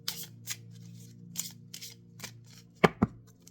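A deck of slippery oracle cards being cut and shuffled by hand, with soft, irregular papery swishes followed by two sharper, louder snaps near the end, over a low steady hum.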